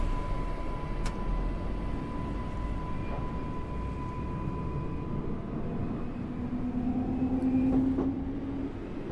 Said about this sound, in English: Brakes off and away we go.